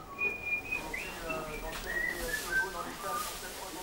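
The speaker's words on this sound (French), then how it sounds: "Dans le box, on commence d'abord par siffler." A person whistles inside a racehorse's stall, giving a series of thin, high, wavering notes in short phrases, moderately quiet and close, with soft room noise beneath.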